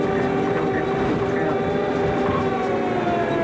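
An open-air tour tram on Angel Island rolls along, giving a steady, loud mechanical rumble and whine of motor and wheels that runs unbroken throughout, with no clear speech.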